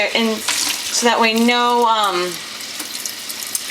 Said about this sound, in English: we're gonna wash the yarn